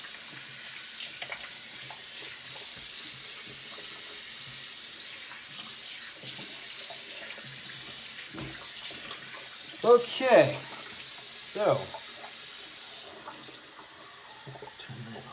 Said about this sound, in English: turn that hot water down just a little bit and dry my hands